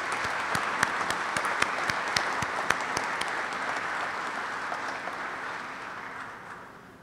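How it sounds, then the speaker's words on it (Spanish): Applause from an audience at a special session, steady dense clapping with a few sharp louder claps near the start, sustained for several seconds before fading out at the end. "para quien pido un aplauso"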